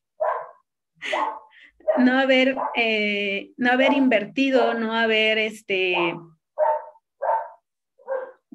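A dog barks in short yips and barks, some overlapping someone speaking close by, with several distinct barks continuing after her voice stops.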